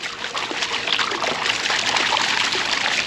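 Water swishes and splashes continuously in a gold pan while panning, a close, steady wash of watery sloshing.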